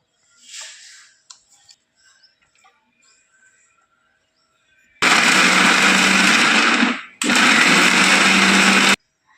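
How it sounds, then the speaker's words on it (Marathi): A mixer grinder whirs loudly for about two seconds, stops briefly, then runs again for another two seconds, grinding leftover flatbread into fine crumbs. Quiet clinks come before it. "आता या पोळ्या आपल्याला मिक्सरमधून छान बारीक काढून घ्यायच्या आहे"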